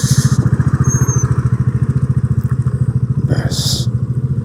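A motorcycle engine idles close by at Talberia Dam lake while being parked, a steady low pulsing chug throughout with brief hissy bursts near the end.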